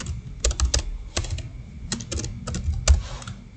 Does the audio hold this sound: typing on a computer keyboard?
yes